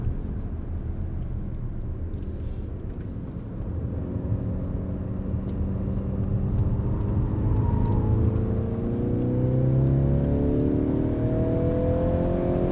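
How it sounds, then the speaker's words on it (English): A 2022 Mercedes-Benz C300 4MATIC sedan powers out of a corner, its engine note rising steadily and growing louder as it accelerates in one held gear, a continuous close-up drone. "plenty of torque to get us out of that corner, held the gear plenty of time"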